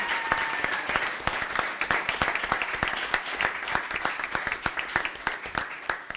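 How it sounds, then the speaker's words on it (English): Audience applauding debaters at an outdoor debate event on the Crosley Estate, with steady moderate clapping throughout and individual claps standing out sharply in a sparse, fairly close crowd. "Can we get another big round of applause for all of our amazing debaters?"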